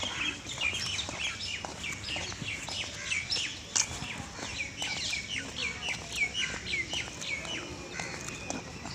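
Outdoor birdsong fills the air on a green walking path, with many chirps and calls overlapping and a louder, piercing peacock cry standing out briefly.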